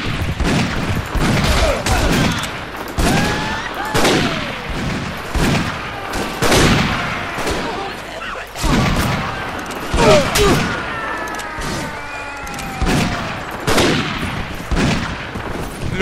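A volley of musket gunfire in Mount & Blade Warband with the 1860 Old America mod, several loud cracks in uneven bursts with booming echoes, as the crowd of shots rolls on across the battlefield.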